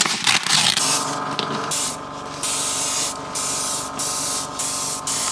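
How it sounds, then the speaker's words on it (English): An airbrush sprays thinned white paint in a close, steady hiss, broken by a few short pauses as the trigger is released and pressed again. "I've loaded up my airbrush with some white paint, some thinner and some airbrush medium."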